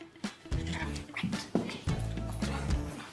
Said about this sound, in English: whose dog is this?